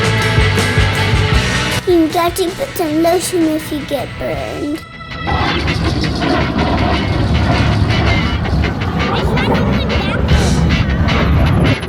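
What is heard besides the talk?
jet aircraft afterburners at an airshow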